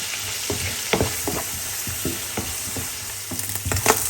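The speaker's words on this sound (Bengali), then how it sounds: "এখন আমি এটা একটু ভেজে নিব।" Shrimp marinated in turmeric and salt fries in a pan, a steady close sizzle broken by repeated scraping stirs and clinks of a utensil.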